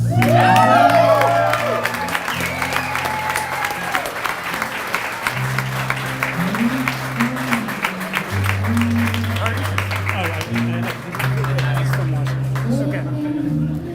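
A large audience at a film prize finalist announcement applauds and cheers steadily throughout, with whoops over loud clapping while music plays underneath.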